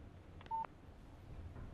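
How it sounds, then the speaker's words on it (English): A short electronic phone text message alert in the Alan Wake video game, one steady beep tone lasting about a fifth of a second, heard alone over a faint ambient hum. "What did I tell you? Text message from Barry."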